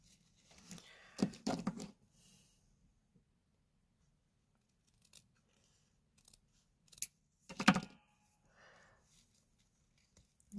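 Scissors snipping through paper for a junk journal, a few short separated bursts of close, crisp cuts amid quiet pauses.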